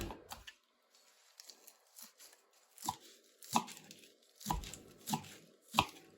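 A knife chops onions on a board in sharp, uneven strokes, a handful of close, crisp hits with short pauses between them.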